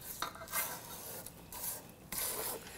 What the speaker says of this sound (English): So I'm just going to scrape the bowl and I'm going to scrape the paddle as well.